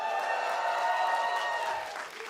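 An esports event crowd cheers and applauds in a large hall, a dense sustained roar of voices and clapping that stays loud before easing slightly at the end.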